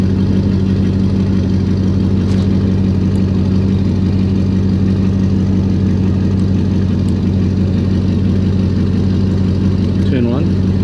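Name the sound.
Roush car engine starting and idling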